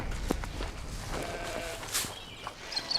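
Sheep bleat in short, moderately close calls over quiet farmyard background, with a few faint footsteps and shuffling between the cries.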